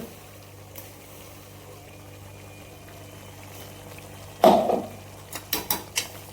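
Ground masala paste drops into a pan of chicken cooking down, a quiet background sizzle broken by a loud scrape and then several sharp utensil clinks against the pan; no speech.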